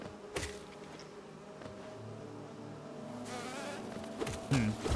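Angry bees in the video game Hollow Knight buzz steadily and fairly close, a continuous droning swarm over low game ambience with a few soft thumps, and no talking.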